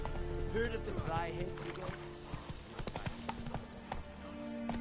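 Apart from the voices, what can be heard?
horse galloping hooves in the video game Witcher 3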